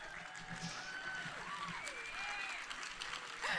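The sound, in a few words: audience applause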